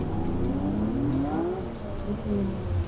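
Car with a smoked clutch straining to pull off, a low engine drone with rising and falling revs, steady and fairly close, outdoors with a rainy hiss.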